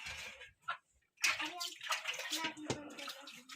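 Rice being rinsed by hand in water in a remote village home, with splashing and sloshing bursts broken by a brief pause, while voices talk over it.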